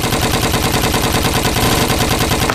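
Rapid, sustained machine-gun fire in a Lego zombie apocalypse animation, a dense loud rattle of shots running without a break for the whole stretch.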